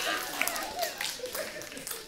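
Scattered audience applause at a comedy roast, a brief patter of claps rising and thinning over about two seconds, mixed with crowd murmur and a voice talking through it.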